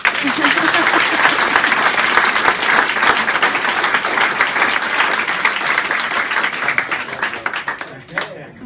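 Sustained applause from an audience at a live event, steady and dense for several seconds before thinning out near the end, with voices faintly mixed in.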